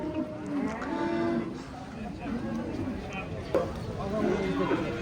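At the Karakol livestock market, bulls low and moo close by while people talk continuously over the noise of a busy crowd.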